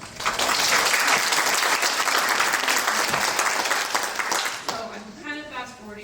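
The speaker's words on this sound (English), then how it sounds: "give yourselves a round of applause for doing the work, for showing up" An audience applauds loudly and steadily for several seconds; the clapping thins out as a voice begins speaking at the end.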